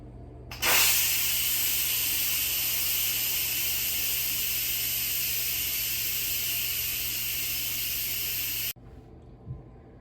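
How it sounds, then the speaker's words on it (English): Loud, steady hiss of steam blasting from an Instant Pot pressure cooker valve during quick release, continuous for about eight seconds before cutting off abruptly. "so let's quick release the steam"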